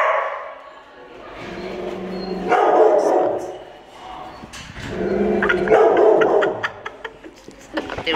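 A dog gives a few barks and yips close by, mixed in with a voice speaking affectionately to it in an indoor setting.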